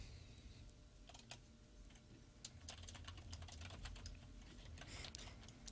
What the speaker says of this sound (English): I like the typing we can hear in the background